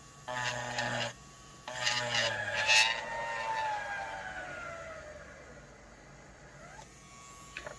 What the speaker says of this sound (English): I'm just going to drill right in the center